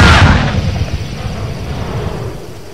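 A bomb explosion in a Telugu horror-comedy film scene: a single loud, close boom at the start that rolls off into a long, fading low rumble.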